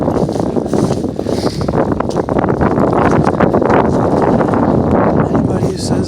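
Cold, windy outdoor weather: steady gusting wind buffets the microphone throughout, a loud broadband rush with rustling texture and no clear pauses.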